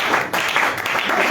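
A church congregation applauding during a Sunday service, a steady dense wash of clapping that holds evenly throughout with a brief dip near the start.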